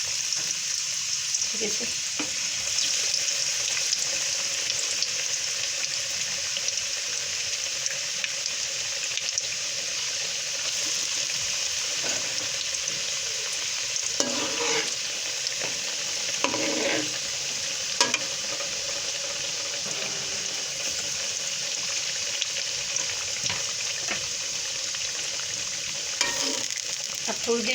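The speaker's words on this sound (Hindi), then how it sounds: "ये ऑयल मैंने रख दिया था और ये गर्म हो चुका है। अब हम इसमें डालेंगे रोल ऐसे" Chicken vegetable samosa rolls fry in hot oil, giving a loud, continuous bubbling sizzle, with occasional clinks and bumps as the rolls are handled, and a brief spoken word over the top.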